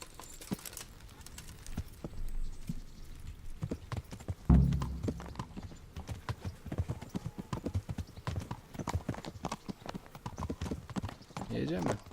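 Hooves clip-clop steadily as a horse is ridden in Kingdom Come: Deliverance, a rhythmic stream of close, distinct hoofbeats with a brief heavier thump early on and speech over part of it.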